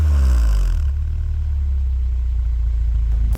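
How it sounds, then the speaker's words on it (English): Nissan Silvia S15 with its SR20 engine revving loudly through the exhaust, a deep rumbling rise near the start before settling into a steady, heavy drone that fills the whole clip. "anyone who has ever heard the sound of the Nissan Silvia S15 stock muffler can tell you just how quiet these things are"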